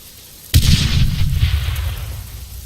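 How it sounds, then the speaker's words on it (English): A grenade goes off in a video game near a runway: one sudden, loud blast whose deep, rumbling boom rolls on and slowly fades over the next two seconds. "I just tossed a grenade into the runway."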